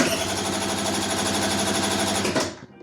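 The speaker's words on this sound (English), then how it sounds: "You can hear clear, defined compression strokes" Scooter engine turning over with a rapid, even chugging of distinct compression strokes, loud and close, running steadily before cutting off abruptly near the end.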